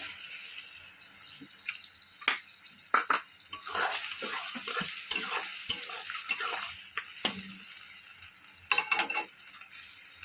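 Cornflour slurry goes into a vegetable pasta gravy in a pan and is stirred, with a steady soft bubbling sizzle broken by irregular sharp clicks and scrapes of a spoon against the pan, close and fairly loud.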